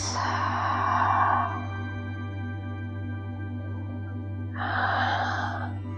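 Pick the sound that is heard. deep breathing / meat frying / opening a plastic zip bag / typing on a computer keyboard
deep breathing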